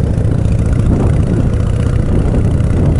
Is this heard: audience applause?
no